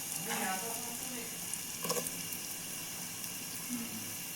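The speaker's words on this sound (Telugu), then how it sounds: "ఆయిల్ వేడయ్యాక ఒక ఆనియన్స్ కట్ చేసుకుని వేసుకొని" Chopped onions sizzling in hot oil for a soya chunk tomato curry, a steady close hiss with a few brief crackling bursts near the start and middle.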